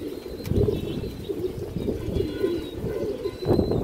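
A large male Indian high-flyer pigeon coos in low, repeated throaty phrases close by, with faint wing rustles and light background noise.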